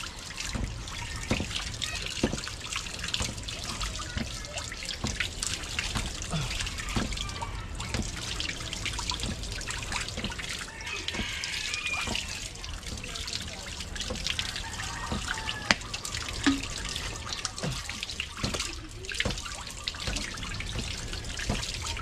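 Water running steadily from a tap, a continuous hissing trickle with faint splashes and small clinks throughout, fairly close and without speech.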